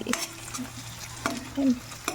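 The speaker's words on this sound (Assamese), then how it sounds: "এতিয়া পিঁয়াজখিনি ভাজি আছোঁ" Onions frying in a home kitchen pan give a soft sizzle broken by sharp clinks and scrapes of a utensil stirring against the metal, close and fairly quiet, with no talking.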